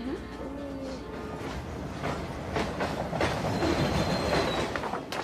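A passenger train rolls along its rails with a steady rumbling clatter and faint wheel squeals, heard from inside the car at moderate level, with occasional sharp clicks.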